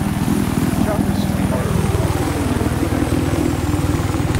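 Rapid rhythmic thumping of helicopter rotor blades in Battlefield 4, loud and steady throughout, with faint voices beneath.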